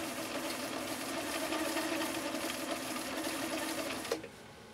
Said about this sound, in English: So this is our double overlock that we just did off of cam B.